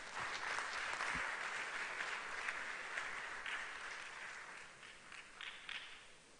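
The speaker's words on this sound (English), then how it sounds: "Shall we please welcome him with a round of applause?" A large room at a UN peacekeeping ministerial meeting fills with sustained applause welcoming a speaker, a broad, even wash of many hands that gradually tapers off over several seconds.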